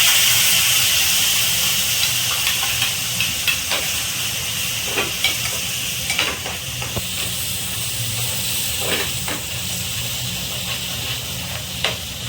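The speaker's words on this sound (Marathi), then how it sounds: "आता आपण वाटण घालायचं वाटण चांगलं भाजून घ्यायचंय" Ground masala paste roasts in hot oil with turmeric, giving a steady, loud hiss and sizzle throughout, broken by occasional soft scrapes and spatters from stirring.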